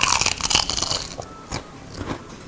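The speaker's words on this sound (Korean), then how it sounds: "부각은 씹으면 소리가 부각됩니다" Loud, close-up crunching as a crisp fried seaweed chip is bitten and chewed, with several sharp crackles that fade into softer chewing.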